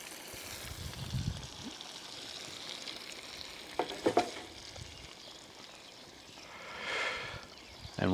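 Salmon frying in a pan during a pork cooking class, a soft steady sizzle at low level with a few brief stirring clatters and a swell of hiss near the end.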